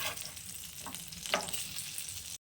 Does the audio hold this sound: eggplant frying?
yes